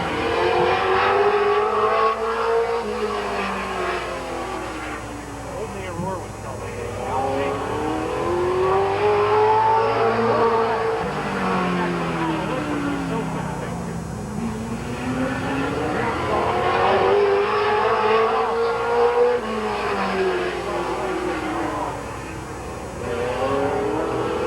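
The number 21 race car qualifying at Midvale Speedway in 1988, a loud engine roaring as it laps the oval, its pitch rising and falling in repeated sweeps as it passes, with a faint announcer voice underneath.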